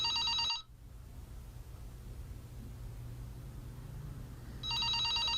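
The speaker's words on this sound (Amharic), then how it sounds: "እሱ ስልክ ታነሺው የምጠብቀው ስልክ አለኝ" An office telephone rings with a trilling electronic bell, two bursts separated by a few seconds of quiet room hiss, without any talk.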